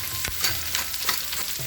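Baby bok choy stir frying in a hot pan with garlic, a steady close sizzle broken by several quick scraping stirs of the spatula.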